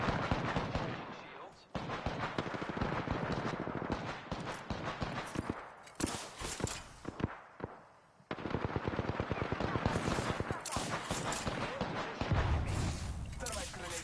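Rapid automatic gunfire in the Apex Legends battle royale game, dense bursts of shots and impacts repeating through a firefight, loud and close, with a voice speaking briefly over the action.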